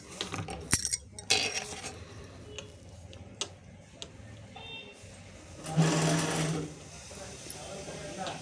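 A sewing machine stitches a front panel in a tailor shop, short bursts of rapid mechanical clatter between pauses and clicks, with a longer run near the end and people talking quietly.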